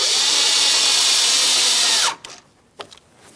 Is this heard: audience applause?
no